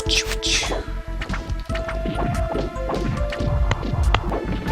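An elbow drop attack in a co-op Sailor Moon video game lands as a rapid series of crashing, thwacking impacts over layered game music and effects, with a player's voice talking over it.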